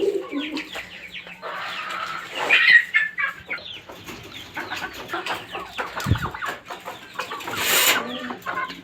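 Caged pet chickens cluck and squawk in quick, close bursts as a hand-mixed special midday feed is set out in front of them, with no talking over the steady chatter of the birds.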